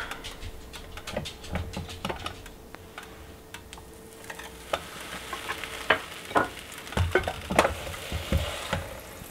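A sandwich presses and sizzles on a hot electric grill, a steady fry hiss running underneath irregular utensil ticks and clicks that grow busier and louder toward the end, with no talking.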